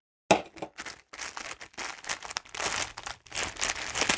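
A Funko Pop package is opened by hand, with close crinkling and rustling of plastic and cardboard in irregular bursts after a brief silence.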